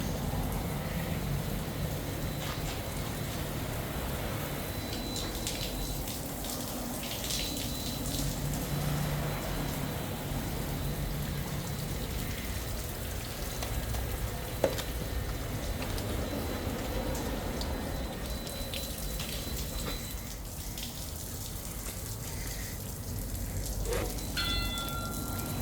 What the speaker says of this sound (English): Acid-free rinse water is now being applied to your vehicle.